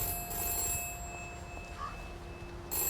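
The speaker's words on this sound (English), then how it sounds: "And the phone's ringing." A telephone rings inside the video game We Happy Few, a steady electronic ringing tone held over a low background hum, with no talking.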